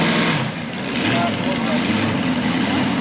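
A super modified pulling tractor engine runs loud and rough at a night tractor pull, a steady heavy roar with a brief dip, while people talk over it.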